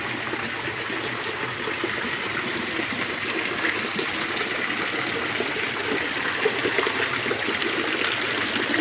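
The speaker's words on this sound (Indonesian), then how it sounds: "Berarti adalah tempat pancuran air." Steady, loud gush of water pouring from a spout at a 1000-year-old stone temple, continuous splashing and trickling without pause, close by and heard alone.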